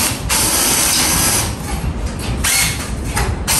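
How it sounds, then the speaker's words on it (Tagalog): A power drill drives screws into ceiling framing on a construction job in Parañaque, a loud continuous whirring and grinding that surges and dips in bursts across the clip, with no talk. "Saka natin tutornilyo dito."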